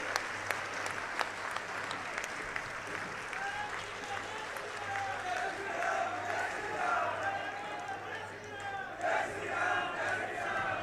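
A large political rally crowd applauds and cheers steadily, a dense roar of clapping with shouted voices rising and swelling throughout, loud and continuous.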